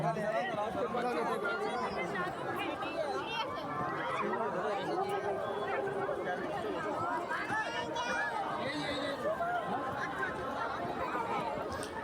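Dense crowd chatter fills a packed Durga Puja pandal in Rabindra Nagar, Asansol, built from date palm husk, bamboo husk and mushrooms, with overlapping voices and occasional laughter at a steady, moderate level.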